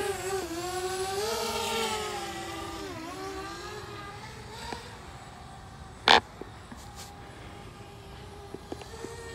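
A DJI Spark mini drone flying fast outdoors beside a road gives a whining, rising and falling buzz of spinning props, close at first then fading, with a sharp click burst and faint ticks later.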